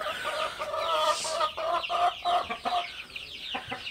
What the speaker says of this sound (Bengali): এই হচ্ছে আমেরিকান ব্রাহ্মা মুরগি।